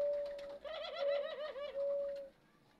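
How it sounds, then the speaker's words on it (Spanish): A male turtle dove coos in courtship, a close, soft, rolling coo repeated in a warbling phrase that rises and falls over a quiet background. "Miren ese rolón haciendo su cortejo."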